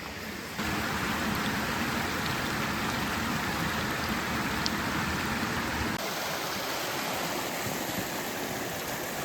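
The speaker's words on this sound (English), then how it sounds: "now it's raining" Steady heavy rain pours down in a dense rainforest, a loud unbroken hiss of drops on leaves and ground that holds constant throughout with no voices.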